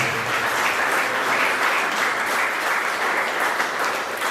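Audience applause at a Greater Manchester Chamber of Commerce summer assembly holds as a dense, even wash of clapping from start to finish, with no voices over it.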